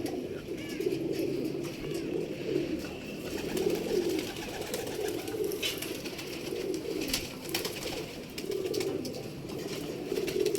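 Pigeons cooing in a loft, soft repeated low throaty coos in rolling phrases, fairly close, with faint background noise and no talking.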